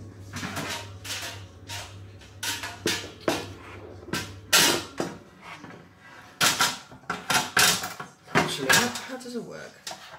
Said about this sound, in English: So I'm going to put this in the oven.